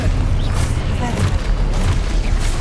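Confringo spell explosions in the video game Hogwarts Legacy produce loud, continuous booming blasts and rumble that fill the whole span with dense crashing energy.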